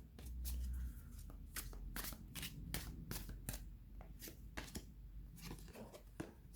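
Cards from a Dragon Tarot deck being drawn and handled, with quick papery snaps and slides in an irregular series, close and fairly quiet.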